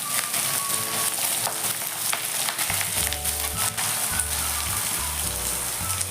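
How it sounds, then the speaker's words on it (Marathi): Chopped onion sizzles in a pan with red chillies, black pepper and green chillies while making chana palak masala; a steady, close frying crackle runs throughout with occasional stirring clinks, and no one speaks. "कांदा चांगला गोल्डन होईपर्यंत आता भाजून घ्यायचा आहे."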